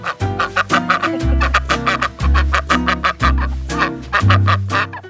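Loud, repeated quacks from a female duck in a rapid series of harsh, nasal bursts, close up and continuous with no talking.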